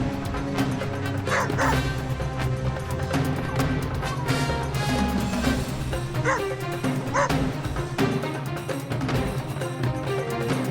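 A trained service dog in a behavior demonstration barks and yips repeatedly with some whimpering, set against steady dense background sound with no clear speech.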